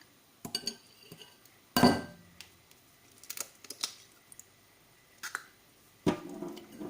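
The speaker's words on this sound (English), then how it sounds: "We just mix it all together." Butter and an egg mixed together in a bowl for microwave flax bread, heard as scattered clinks and scrapes of a utensil against the bowl, a few louder knocks among quieter taps, with no talking.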